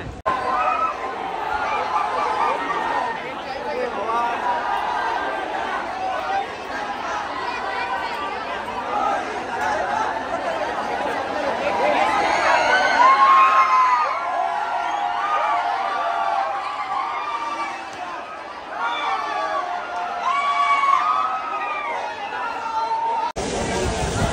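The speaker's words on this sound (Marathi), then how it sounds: "इकडे सगळे चर्चगेट साठी गर्दी बघा तुम्ही" Dense crowd of cricket fans near Dadar station and Marine Drive in Mumbai, gathered for the Indian team's trophy celebration, fills the air with steady babble and chatter, with a few louder cheers and whoops rising mid-way.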